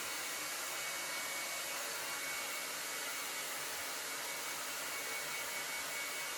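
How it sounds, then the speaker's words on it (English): A hair dryer blows steadily on hair, a continuous close, loud whooshing hum with no break across the whole stretch and no voices. "So let's blow dry this hair."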